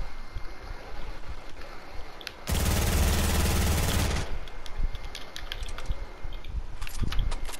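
Sustained burst of SMG fire in the video game Fortnite, a loud rapid continuous rattle lasting nearly two seconds amid quieter game ambience and scattered small effects.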